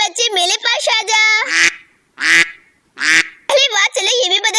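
Duckling quacking with loud, repeated nasal calls in quick bursts, alternating with someone speaking over and between them close by.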